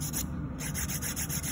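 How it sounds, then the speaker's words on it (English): Nail file rubbing back and forth across a natural nail during soft oval shaping, a close, steady series of dry scratchy strokes with a regular rhythm and no talking. "Filing back and forth is not bad for the nail"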